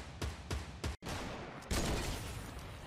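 Gunfire erupts in a video game shootout: three sharp shots crack in quick succession, a brief gap follows, then dense continuous firing carries on at moderate loudness, with no talking.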